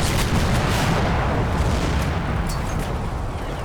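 Mortar fire in the Combat Mission video game: loud, sustained rumbling blasts that roll together into a continuous heavy roar with no gaps, with no talking over it.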